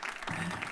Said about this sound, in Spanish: Démonos un aplauso nosotros a nosotros mismos.